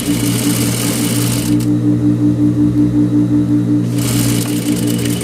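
A sewing machine runs steadily, stitching a seam on a blouse with a loud, even mechanical whir that briefly shifts to a smoother, quieter hum midway before the rattling drive returns.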